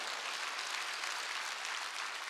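Dense, steady applause from a church congregation at a Wednesday worship service, a continuous wash of many hands clapping together, loud and sustained throughout with no voices standing out.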